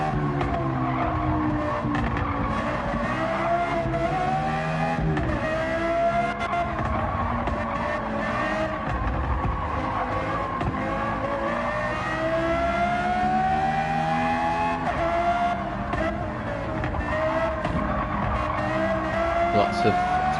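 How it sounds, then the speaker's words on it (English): Race car in a 90-mile Gen-X MTC race at Big Willow, its engine held at steady revs with repeated throttle feathering through corners while tires squeal and skid, loud and continuous under a commentator's voice. "Lots of throttle feathering going on."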